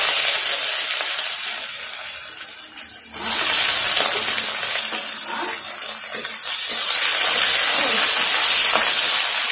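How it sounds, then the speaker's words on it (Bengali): Chopped onions with cumin frying in a pan for mutton curry give a steady close hiss and crackle, dipping briefly before swelling back to a loud, even sizzle. "পেঁয়াজ ভাজা হয়ে গেছে"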